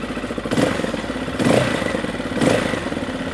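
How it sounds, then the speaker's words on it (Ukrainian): A Spark SP200D-5B off-road motorcycle engine runs steadily with a low, throbbing bass note from its stainless steel exhaust, swelling in three brief surges of revving about a second apart. "Вихлопна труба виконана з нержавіючої сталі і видає приємний басовий звук"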